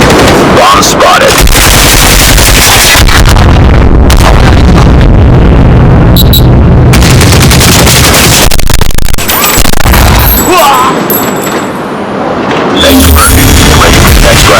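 Heavy gunfire and explosions from a Call of Duty Mobile match, with loud rapid shots and booming blasts nearly nonstop and brief lulls in between.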